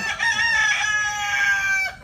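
A rooster crows close by in one long, loud, wavering call lasting about two seconds, over a faint murmur of chickens on a farm.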